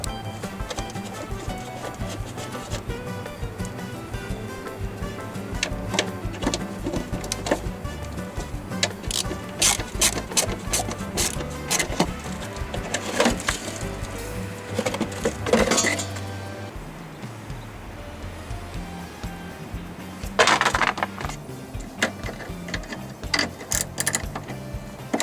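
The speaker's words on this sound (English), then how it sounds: "Let's remove these 2 screws." Ratcheting tool clicks and metallic clinks sound up close as screws come out of the rear quarter panel trim on a Cadillac DeVille, in irregular bursts with handling noise between them.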